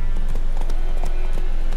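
Horse hooves galloping in The Witcher 3, a steady rapid clip-clop of repeated thuds over a continuous loud game soundscape, with no talking during the run.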